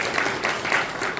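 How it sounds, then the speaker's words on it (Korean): Brief burst of congregation applause at a prayer gathering marking the March 1st Independence Movement anniversary, rising and falling in quick uneven swells. "우리 박수로"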